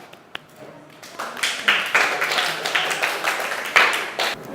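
A classroom audience of students in an advanced presentation class claps for presenters who have just finished talking about soccer, a steady crowd applause with dense overlapping claps rising after a second and holding for several seconds.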